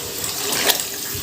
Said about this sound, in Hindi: अब इसमें हम पानी डाल के ना इसकी यखनी बनाने के लिए छोड़ देंगे